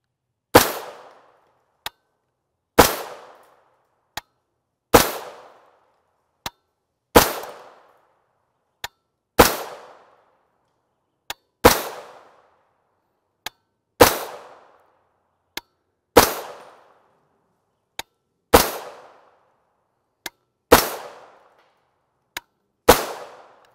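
Shots from a 16-inch PSA AR build in 300 Blackout firing 220-grain OTM rounds ring out as about ten sharp, loud reports evenly spaced a couple of seconds apart, each with a brief decaying echo and faint clicks between.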